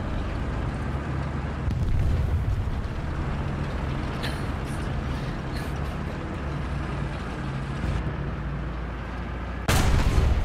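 Anti-aircraft guns fire in a video game as a dense, steady roar of rumbling gunfire. A sharp, louder burst comes near the end.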